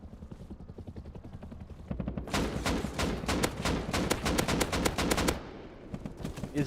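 An AK rifle in the video game Rust fires rapid, evenly spaced automatic shots, first quieter and more distant, then a loud close sustained burst before tapering off.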